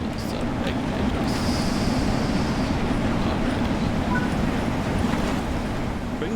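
An LMS Class 6P steam locomotive in Train Sim World 4 runs on the Peak Forest Line as it approaches a station, giving a steady, unbroken rolling rumble with a faint hiss above it.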